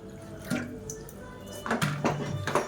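Water is poured a little at a time into salted dough for mixing in a home kitchen, giving several short splashy trickles and drips, close and moderately loud, with a few soft bumps in between.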